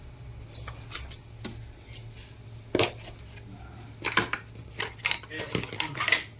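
Eggplant pieces being mixed by hand with chilli powder and fenugreek powder for a pickle, giving irregular clattering and scraping of a metal vessel and spoon over a low hum, with faint talk in the background.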